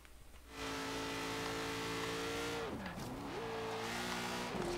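A car driven in the racing game Forza Horizon 3 holds a steady high engine drone after a short quiet start, the pitch dipping sharply and climbing back as gears shift, with faint tire noise; no one speaks.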